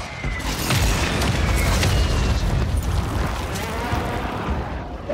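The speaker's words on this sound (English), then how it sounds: "There's a mortar on it right now." A mortar strike explodes in Call of Duty Warzone, a loud, sustained booming blast with rumbling debris that rolls on for several seconds and fills the scene.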